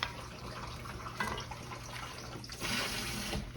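Water runs steadily into a pot of beef stock being made for freezing, a continuous close splashing pour with a brief louder surge near the end.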